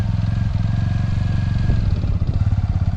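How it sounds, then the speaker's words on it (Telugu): Motorcycle engine idling low and steady close by, then easing forward as the clutch is released with light throttle, a gentle rise in engine note without hard revving. "ఎక్కడ బండి ఆగుతుందని మూమెంట్ వచ్చిందో అక్కడ యాక్సలరేషన్ లైట్గా ఇవ్వాలి, ఒక్కసారి ఇవ్వకూడదు."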